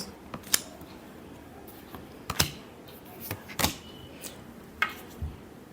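Tarot cards are handled during a final shuffle at a reading. Scattered crisp snaps and flicks of card stock sound close and sharp over a low hiss, irregularly spaced with a few louder slaps, and no one speaks.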